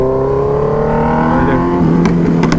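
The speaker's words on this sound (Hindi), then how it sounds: "भाई इसके बैक फायर सुन रहे हो आप" A superbike fitted with an Arrow exhaust roars close by, its engine note dropping off the throttle before a few sharp, crackling backfire pops burst out near the end.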